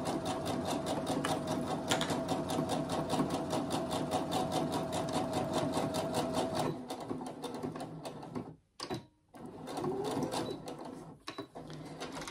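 Sewing machine stitching a fabric phone pouch, a close, steady motor whir with rapid regular needle clatter that slows and briefly stops twice before running again.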